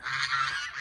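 A flock of geese honks loudly and continuously nearby outdoors, overlapping nasal calls forming a steady clamor.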